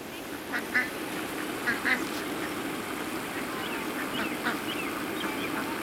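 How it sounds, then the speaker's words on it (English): Several ducks quack in short scattered bursts over a steady outdoor hiss, moderately distant and not very loud. "now there's a whole bunch of ducks"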